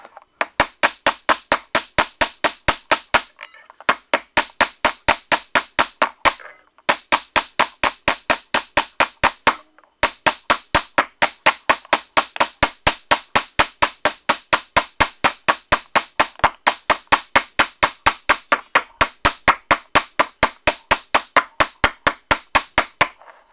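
Metal sheet being dished and planished with a hammer in a workshop, a long run of sharp, evenly spaced ringing blows, loud and close, broken by a few brief pauses.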